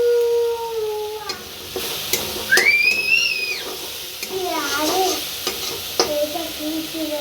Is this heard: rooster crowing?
no